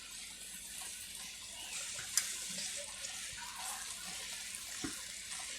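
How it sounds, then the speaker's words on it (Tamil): Half a glass of water poured into pav bhaji masala with mashed boiled potatoes in a pan, a soft steady splashing trickle with a faint clink. "உருளைக்கிழங்கு போட்ட பிற்பாடு ஒரு 1/2 கிளாஸ் தண்ணி ஊற்றுறேன்"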